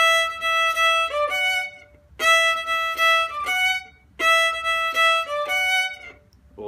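A fiddle plays a bar of a bagpipe tune, with bright bowed notes in three short phrases separated by brief breaks, close and clear with no talking.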